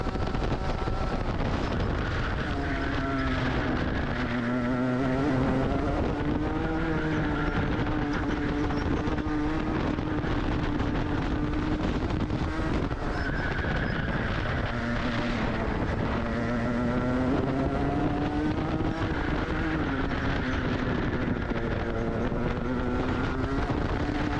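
Junior racing karts at full speed on the Tamworth circuit, their buzzing two-stroke engines droning continuously and rising and falling in pitch as they pass, with a steady rush of wind noise.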